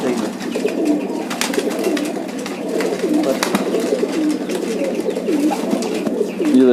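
Bloodline pigeons, including a nesting female, cooing continuously up close in a loft, soft rolling throaty coos repeating over a steady background.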